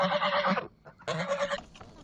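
Geese honking up close, two loud, harsh calls with a short pause between them.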